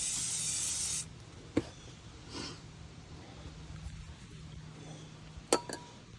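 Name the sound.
spraying from a spray can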